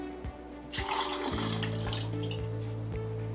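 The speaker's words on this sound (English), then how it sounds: "as you pour in this chemical, you're gonna press start" Film developer chemical poured into a developing tank, a rushing liquid splash that starts abruptly and continues steadily, with a low rhythmic background beat underneath.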